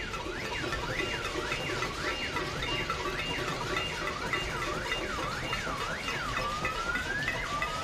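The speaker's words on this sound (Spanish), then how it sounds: "también se escuchaban bocinas, sirenas, alarmas" A car alarm cycles through a rapid rising-and-falling whoop, repeating steadily over loud, constant noise of a pot-banging street protest with horns and sirens, then shifts to a higher sweeping tone near the end.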